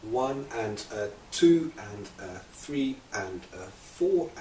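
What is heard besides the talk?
No everyday noises stand out.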